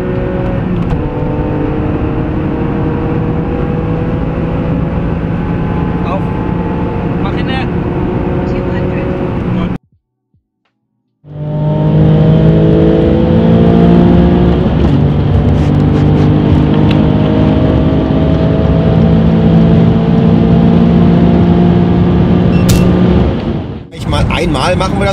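A Porsche 996 with a 3.4-litre rear-wheel-drive flat-six runs on a dyno with a loud, close, sustained engine drone that rises in pitch, cuts out briefly midway, then roars back and holds.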